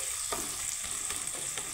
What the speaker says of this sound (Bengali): আমার পেঁয়াজটা ভাজা হয়ে গেছে, সাথে টমেটোটা আমি একটু খুন্তি দিয়ে একটু